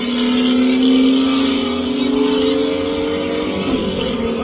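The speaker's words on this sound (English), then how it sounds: "the Honda came good off the line." Honda car accelerating hard off the line, a loud sustained engine drone with a steady rising pitch held for several seconds, no voices.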